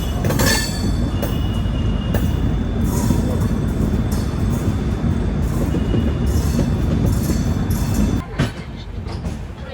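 Howrah–New Delhi Rajdhani Express running, a loud steady rumble of wheels and carriage noise filling the whole stretch, with a brief drop and shift near the end as the rolling continues.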